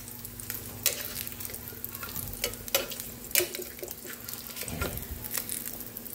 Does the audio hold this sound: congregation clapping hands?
no